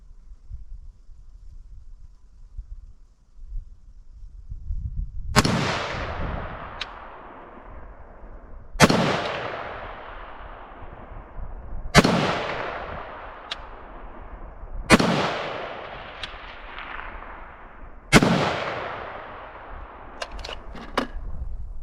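Five loud rifle shots of 5.56mm 55 grain M193 ammunition, fired one at a time roughly three seconds apart on an outdoor range. Each sharp crack fades into a long echoing tail.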